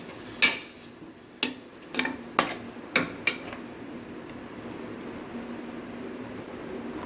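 Mutton being stirred with onions in a cooking pot for Bakrid mutton haleem, a handful of sharp metallic clanks and scrapes of spoon against pot in the first few seconds, then quiet simmering background.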